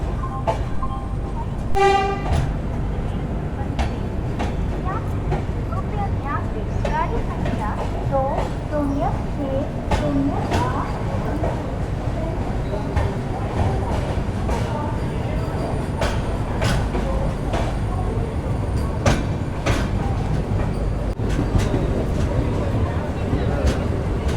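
A double-decker Mysuru–Chennai train rumbles steadily along the rails with rhythmic clacking, a brief horn toot early on, and voices talking over the continuous noise.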